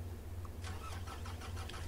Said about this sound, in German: Henning, nochmal, starte den Wagen.